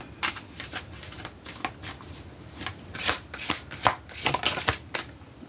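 Tarot cards being shuffled by hand, a dense run of crisp riffling and flicking strokes close up with no talk over them.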